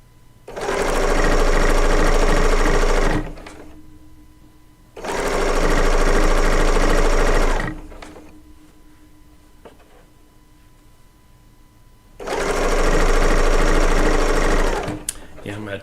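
A serger pieces quilt fabric while its knife trims loose thread chains, running in three loud, steady bursts of a few seconds each with brief pauses between, close up.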